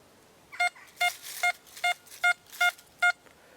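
Seven short electronic beeps from an XP Deus metal detector set to audio response 7, evenly spaced about every 0.4 seconds, clear and fairly loud over a quiet background.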